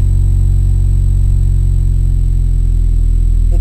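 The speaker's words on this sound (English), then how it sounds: "And yes, it's got an exhaust leak." Close and loud, a 1989 Honda Civic idles with an exhaust leak, a constant deep rumbling drone with a faint pulsing texture that holds steady throughout, no voices over it.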